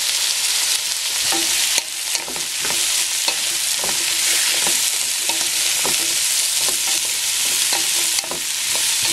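Chicken chopsuey with carrots and mushrooms frying in a pan, giving a loud, continuous sizzle, while a utensil stirs and scrapes in steady repeated strokes, close up with no talking.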